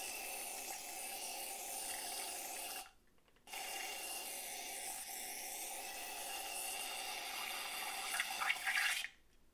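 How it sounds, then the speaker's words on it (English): WD-40 spraying or pouring into a cup makes a steady hissing fill that stops briefly partway through, resumes and then cuts off at the end. "Filling this cup up"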